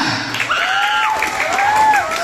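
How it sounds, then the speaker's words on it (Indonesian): Clapping for a child named Chandra at an Islamic children's gathering, a steady wash of applause lasting about two seconds with bright gliding tones running through it. "tepuk tangan untuk Chandra."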